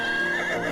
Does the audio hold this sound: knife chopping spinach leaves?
no